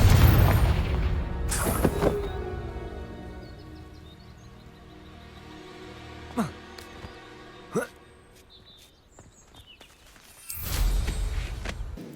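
The Confringo fire spell in Hogwarts Legacy goes off as a deep, booming blast, with a strong low burst at the start and a second heavy boom near the end. Lighter magical zaps and rumbles fill the quieter stretch between them.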